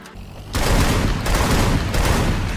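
Rapid sustained AK rifle fire in the mobile shooter Free Fire, a dense loud burst starting abruptly after a quiet moment and continuing without pause.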